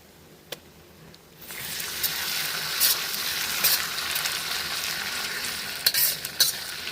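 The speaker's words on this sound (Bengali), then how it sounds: "মশলাটাকে ভালো করে কষিয়ে নেব।" Ginger, garlic and green chili paste hits hot oil in a pan after onions, bursting into a loud continuous sizzle with stirring scrapes and occasional sharp crackles, no voices.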